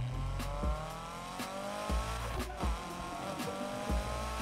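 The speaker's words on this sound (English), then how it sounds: "I love how this thing at idle sounds like it just has the lopiest camshaft" A car engine with a lopey camshaft idles in Need for Speed Heat, its uneven rumble pulsing in a loping rhythm with periodic thumps and a few revs, loud and close, with no speech.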